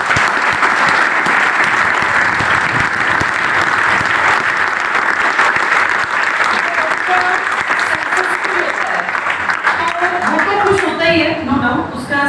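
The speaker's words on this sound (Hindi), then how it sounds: "तो बस अब कृतिका के लिए एक बार लास्ट बार तालियां।" A crowd at a coaching centre celebration claps loudly and continuously for a newly selected NDA officer, dense applause that thins slightly near the end as a voice begins to speak.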